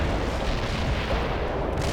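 Heavy artillery fire support in the Soviet Assault campaign of the strategy game World in Conflict: a dense, continuous low rumble of overlapping booms and blasts, loud and sustained, with no voices.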